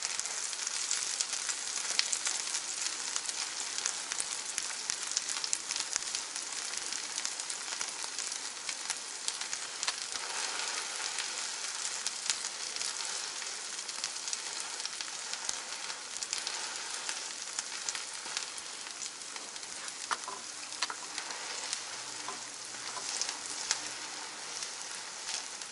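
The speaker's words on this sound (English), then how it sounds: "You want to let it fry up first." An egg and cheese sandwich frying in oil in a pan gives a steady, close crackling sizzle with fine pops, running continuously without talk.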